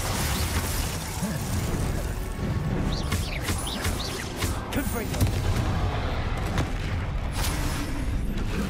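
Blasting spell fire in Hogwarts Legacy, a wizard combat game: rapid booming explosions and crackling impacts pile up continuously under dense battle noise, with a voice talking over parts of it.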